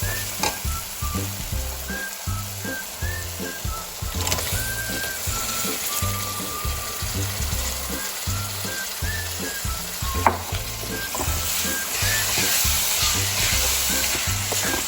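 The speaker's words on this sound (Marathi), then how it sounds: "तर आता आपण याच्यामध्ये मॅरिनेट केलेले फ्रॉन्स घालून घेऊयात" Marinated prawns frying in a thick masala gravy give off a loud, steady sizzle with scraping stir strokes and utensil clatter throughout, for a Malvani-style prawn biryani.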